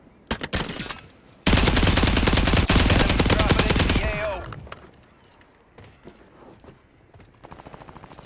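Fast automatic fire from a Striker 9 in a shooter game, a few short shots followed by a long loud sustained burst that cuts off, then quieter scattered shots and footsteps.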